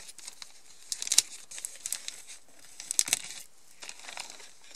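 Gift paper being torn and crinkled while an advent calendar is unwrapped, close and fairly quiet, with sharp rustling bursts near the one-second and three-second marks amid lighter continuous crackling.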